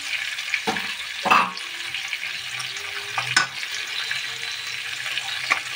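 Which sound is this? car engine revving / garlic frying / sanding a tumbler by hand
garlic frying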